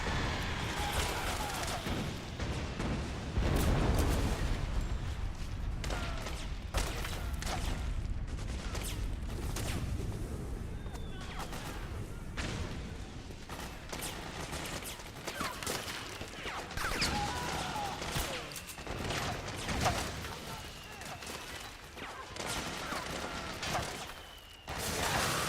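Gunfire and explosions from the video game Metal Gear Solid 4 crackle continuously, with dense bursts of shots, sharp cracks and heavy booms layered over a rumbling battlefield for the whole stretch.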